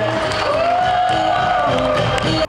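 A crowd at the Buti pálinka festival, held in a family orchard in Vönöck, Hungary, cheers and whoops for the newly chosen festival queen. It is a loud, steady roar of voices with rising shouts, cut off abruptly at the end.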